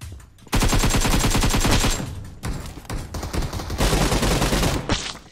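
Rapid automatic fire from an ASM Abakan rifle in the PUBG Mobile game, loud sustained bursts broken by brief pauses, with no talking.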